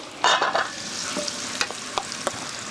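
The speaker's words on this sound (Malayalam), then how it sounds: "അപ്പോൾ 3 സവാള എടുത്തൊന്ന് നമുക്കൊന്ന് വഴറ്റാം. അതിലേക്ക് 2 ടേബിൾ സ്പൂൺ ഇഞ്ചി പേസ്റ്റ്," Three onions stirred and sautéed with ginger paste in hot oil for beef mandi, a close sizzle with scraping spoon strokes and a few sharp clicks against the pan, no talk.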